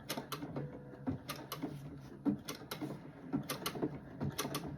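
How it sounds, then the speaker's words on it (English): A sewing machine stitching patches onto a denim jean jacket, its rapid mechanical whirring steady and close, broken by regular sharp clicks and short pauses, with no one talking. "right now I'm just trying to get them all sewed down"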